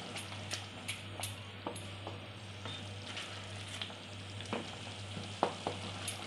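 Rab, a warm flour drink, is stirred in a pan after dry ginger powder goes in: soft sizzling under a low steady hum, with light spoon scrapes and taps at irregular intervals.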